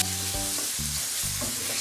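Chicken pieces frying in a non-stick-free pan, a bright continuous sizzle with short bursts of stirring or scraping repeating every half second or so, close and fairly loud.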